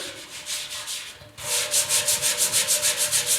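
Hand sanding a dented steel fuel tank from a 1974 Yamaha RS 100 motorcycle with 80 grit sandpaper: close, rhythmic rasping strokes, a steady rub followed by a quick run of even back-and-forth passes.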